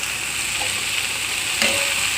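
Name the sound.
mushrooms being sautéed in a pan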